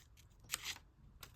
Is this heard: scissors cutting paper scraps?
yes